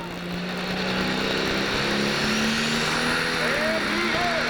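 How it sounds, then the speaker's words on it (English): A 12,000 lb pro pulling tractor at a 1998 Illinois tractor pull, its engine roaring steadily and rising in revs, loud and continuous, with an announcer talking over it. "He's put the hand on the throttle. He's going to bring the RPMs up."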